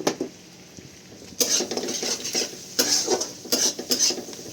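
A spoon scrapes and clatters through broccoli masala with spices in a pan: close, irregular bursts of metallic scraping and tapping over a quiet background.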